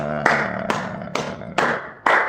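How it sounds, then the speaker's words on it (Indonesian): Hands clap five separate times with roughly even gaps, each a sharp, nearby smack that fades quickly. The clapping comes during a church prayer service and has no talk over it. "Tepuk tangan, amin."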